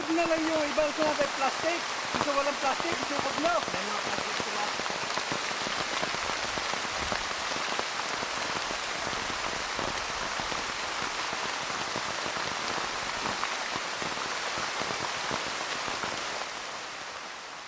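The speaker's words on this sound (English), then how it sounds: "Torrents of rain start to beat the forest and drench us." Heavy rain pours down in a Palawan rainforest in the Philippines in a dense, steady roar of drops, loud and continuous throughout; a voice is faintly heard in the first few seconds.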